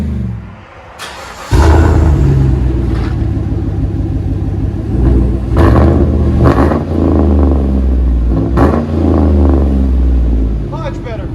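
A Chevy Tahoe's 5.3L V8 exhaust heard from inside the cab with the muffler removed or altered, a loud steady low rumble that swells with revving after a quiet start, with a voice talking over it.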